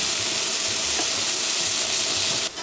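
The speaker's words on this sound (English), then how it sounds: "we are waiting for Satoshi to finish sauteing the vegetables" Carrots and onions sauté in a hot pan for yakisoba, giving a loud, unbroken sizzle and steamy hiss close by that drops off abruptly at the end.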